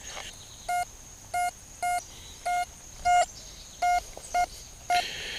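A metal detector gives a steady single-pitch monotone signal in eight short, evenly spaced bursts, with a faint constant high hum underneath, on the Cold Harbor battlefield.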